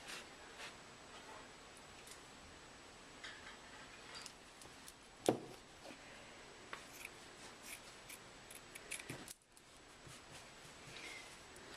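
Scissors cutting into the fabric of a bodice, heard as faint, quiet snips and small ticks in a hushed room, with one slightly sharper cut partway through and no speech.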